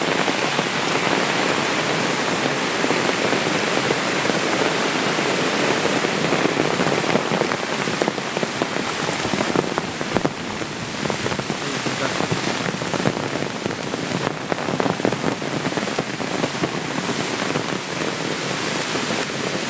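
Heavy rain pours steadily in a rural Konkan setting, a dense, loud, unbroken hiss of drops hitting surfaces throughout, with no voices.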